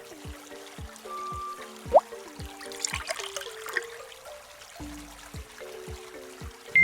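Water pours into a hole in a children's animated dinosaur game, a light trickling and splashing heard under a repeating plucked musical cue, with a brief louder splash near the start.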